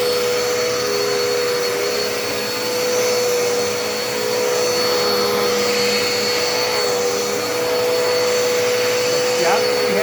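A Dirt Devil Endura Reach vacuum cleaner runs steadily at close range, a loud continuous whine with a sharp fixed tone that barely changes for the whole stretch.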